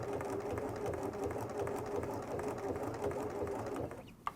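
A sewing machine stitches a test buttonhole, running in a steady, fast mechanical rhythm of close needle strokes that continues throughout and stops abruptly near the end with a small click.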